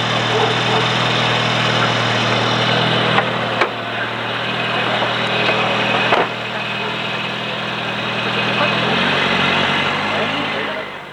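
A Citroën rally car at a 1996 national rally sits idling with a slight knock, its steady low engine hum running throughout, broken by a couple of sharp clicks and a drop in pitch near the end, with voices talking over it.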